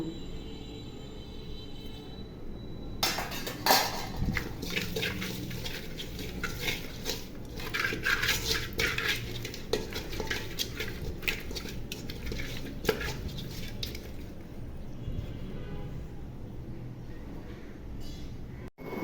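Turmeric and salt are rubbed by hand onto cleaned stinging catfish in a metal bowl, making a steady close wet squelching and scraping with occasional clinks against the bowl, continuing for a long stretch before fading.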